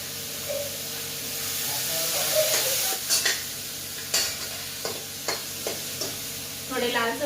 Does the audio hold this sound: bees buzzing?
no